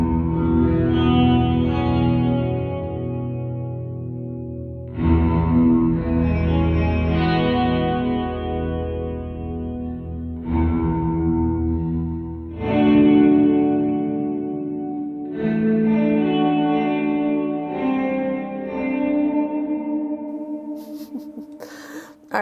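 Guitar run through an Alexander Space Force reverb pedal with its pitch shifter set down a fourth, long washy sustained chords that swell and bloom with a lower shimmering layer, several strummed phrases heard alone.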